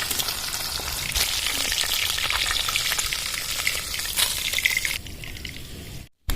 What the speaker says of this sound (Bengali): ইলিশ মাছ বেশি ভাজতে নেই এটা তুলে ফেলবো